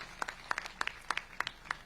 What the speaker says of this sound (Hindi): बहुत जोरदार एक बार तालियों से स्वागत करिए कुशाल जी का